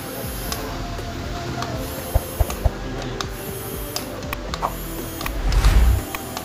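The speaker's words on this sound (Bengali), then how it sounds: "তো আমাদের এখানে মোটরটা কাজ করছে, দেখুন মোটরটা কিন্তু ঘুরছে।" A small electric motor in a children's toy RC car whirs steadily under repair, with a few sharp clicks and a louder rough burst near the end.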